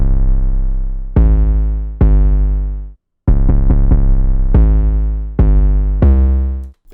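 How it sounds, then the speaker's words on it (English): Deep 808 bass drum pattern from a trap beat, loud and booming on its own, with long sliding tones sustaining and fading between hits and a quick triplet burst of short notes midway. "the very last thing for the drums, guys, believe it or not, is just the 808, which is going to sound like this."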